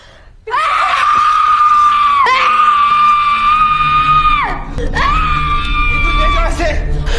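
A person in a film screams and shrieks in fear at someone approaching, with long loud sustained cries broken by a brief pause, then another drawn-out scream close to the listener.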